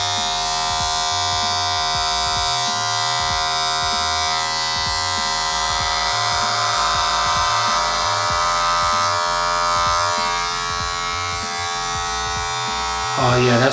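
A Wahl Magic Clip cordless clipper buzzes steadily and close up while fading a beard, its hum continuous through the whole stretch with a brief louder bump at the end.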